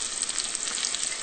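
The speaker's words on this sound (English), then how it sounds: "and then saute for 2 minutes more" Asparagus, mushrooms and garlic sauté in a pan for a shrimp fettuccine Alfredo, making a bright, crackling sizzle that is dense and continuous, close up and with no speech.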